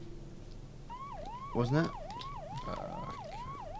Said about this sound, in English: A police siren is heard.